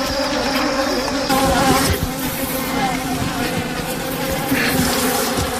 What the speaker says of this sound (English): Some of the bees are still fighting back, but probably most of the guards are dead.